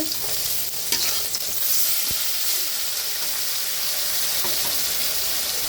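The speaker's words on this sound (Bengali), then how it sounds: "এখানে মাছ ভাজা হচ্ছে" Fish sizzling steadily in oil in a home kitchen pan, a continuous bright crackle with occasional stirring clicks and scrapes, close and fairly loud with no talking.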